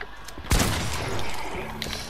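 Gunfire in the video game Fortnite: one sharp, loud shot rings out near the start, and a dense, reverberant game soundscape carries on after it.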